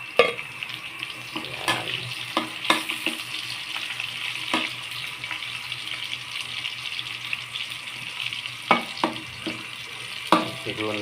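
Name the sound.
stir-frying pancit with chili (labuyo)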